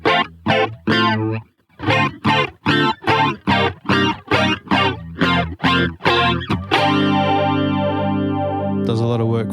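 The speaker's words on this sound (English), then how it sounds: "the Micro Flanger is set to a particular sound here." An electric guitar played through an MXR Micro Flanger pedal gives a sweeping, warm, syrupy modulated tone: a run of choppy, rhythmic chords followed by a long sustained chord with a swirling, whooshing sweep.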